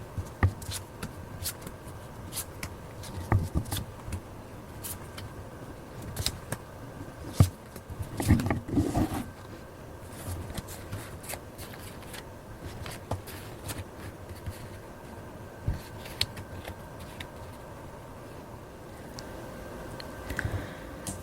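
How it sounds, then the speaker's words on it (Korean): Tarot cards are shuffled and drawn with soft rustles, flicks and taps, scattered irregularly through a quiet indoor scene. "외모, 성격, 특징, 직업, 연애 스타일 카드로 한번 뽑아보도록 할게요"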